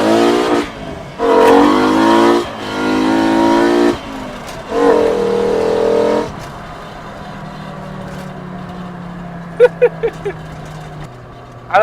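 A Mk2 GTI with a swapped 5-cylinder engine is driven hard, revving up in several strong pulls with gear-change gaps, then easing to a low drone broken by a few sharp pops near the end.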